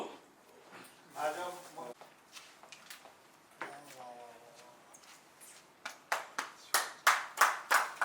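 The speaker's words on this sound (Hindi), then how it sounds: "तालियां।" Scattered claps at a 1970-71 commerce batch school reunion, growing into a run of loud, evenly spaced hand claps near the end, with people talking over the earlier part.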